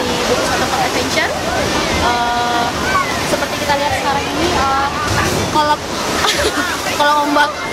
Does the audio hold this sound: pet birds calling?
no